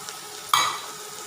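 Pea and potato curry with red chilli powder, masala and turmeric is stirred in a hot pan: a low background sizzle, then a sharp scraping stir that flares into a louder, fading hiss.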